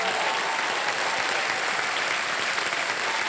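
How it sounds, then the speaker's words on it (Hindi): Loud, sustained applause from a studio audience for contestants seated on the hot seat during a KBC quiz show episode, dense clapping filling the whole stretch without pause. "एक बार जोरदार तालियां बज जाएं इनके लिए"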